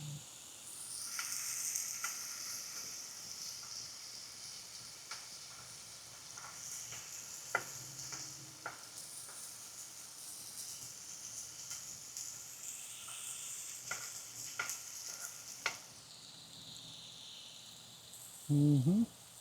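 Food seasoned with salt, pepper and garlic sizzles steadily in a pan at a campsite, with faint scrapes and taps of stirring. A brief low voice comes in at the end.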